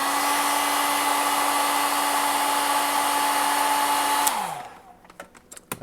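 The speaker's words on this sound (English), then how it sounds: "I'm going to grab a hairdryer" A hair dryer blows with a steady whirring hum, close and loud, then switches off and winds down, followed by a few light clicks.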